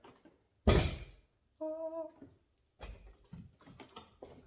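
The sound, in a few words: car door opening, Nissan S13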